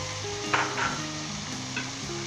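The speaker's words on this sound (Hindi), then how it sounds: "अब अच्छे तरीके से हम इसे स्टर फ्राई करेंगे 5 मिनट तक" Shredded chicken stir-frying with chili sauce, lemon juice and ketchup over high heat, a steady close sizzle with a few brief stirring scrapes, no voices.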